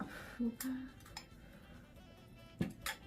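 A spoon clinks lightly against a dish while scooping tamarind jaew dipping sauce, a few faint scattered taps and scrapes in a quiet kitchen.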